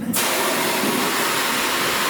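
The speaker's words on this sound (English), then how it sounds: "Already making steam." A continuous loud hiss of steam rushing out of a steamer for bending wood, starting abruptly and holding steady and close throughout, with no voices.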